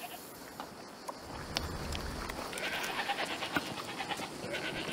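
A farm goat in the game A Plague Tale: Requiem bleats a few times over soft ambient village sounds and faint clopping, moderately close.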